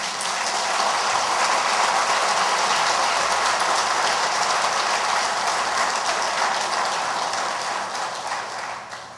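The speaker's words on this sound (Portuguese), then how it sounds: "Você pode aplaudir o Senhor, amado irmão?" A church congregation claps steadily and loudly for about nine seconds in a dense, rain-like wash that fades slightly near the end. No voices stand out over it.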